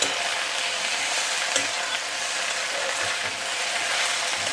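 A spatula scrapes and stirs food in a hot pan for an Assamese taro dish, with a rough continuous frying hiss under irregular scraping strokes, close and steady, with no voices.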